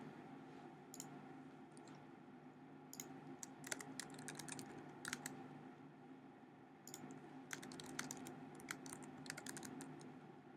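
Quiet keystrokes on a computer keyboard come in short irregular bursts of clicks against a faint hum, with no voices.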